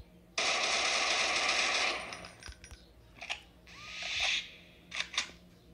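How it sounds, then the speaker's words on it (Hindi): Machine gun fire in the sci-fi video game Space Isolation: a loud, continuous rattling burst for about a second and a half, then shorter clicking and mechanical bursts and a second swelling rattle, with no talk over it. "अब हम मशीन गन आराम से चलाएंगे"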